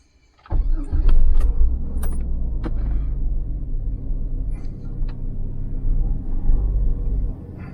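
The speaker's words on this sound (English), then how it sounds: "We're going to crank it." A 12-volt car battery powers the starter as a car engine cranks and catches: a quiet moment, then a sudden loud rumbling start that settles into a steady idle with a few sharp clicks and knocks.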